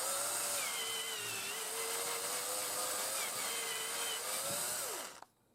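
A power drill with a 1/4 inch bit whines steadily, drilling out an M6 threaded hole in metal, its pitch wavering as the bit bites, then winds down and stops near the end.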